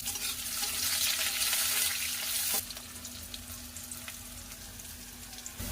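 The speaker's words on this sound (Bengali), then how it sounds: "এই দেখো আমার পেঁয়াজটা একটু ভাজা ভাজা হয়ে এসছে" Chopped onions frying in a pan with chilli and bay leaf, a steady hiss of sizzling oil that is louder for the first half and then settles lower, with no talking.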